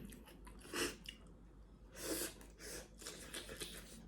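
Crispy fried chili being chewed close up, with bursts of crunchy bites and pauses between them, faint and unaccompanied by talk.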